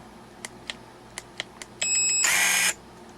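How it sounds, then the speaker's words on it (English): SundpeyPRO 21V cordless pruning shears give five short electronic beeps spaced irregularly, then a loud, sustained high-pitched tone lasting almost a second before cutting off into quiet. "It beeps twice, wait, and then you get the long tone."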